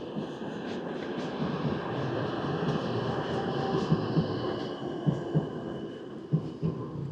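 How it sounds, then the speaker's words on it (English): Trams rolling along a wide city street in Gorzów Wielkopolski, Poland, a continuous rumbling rail noise with rhythmic clacks from the wheels over track joints, at moderate distance. "Big open street with the tram lines going down, the trams going by."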